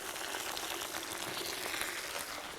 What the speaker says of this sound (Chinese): 你看这个姜稍微给它煎黄、煎焦了之后啊，就把这个洗好的那个鸭子啊。 放起进去